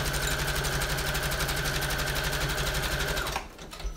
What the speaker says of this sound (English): I'm just going to sew that on down the middle first